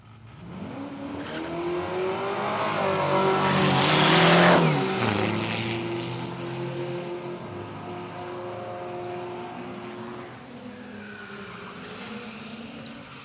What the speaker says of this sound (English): the turbo diesel powered little ute, giving everyone over there in the grandstand a nice lung full of diesel smoke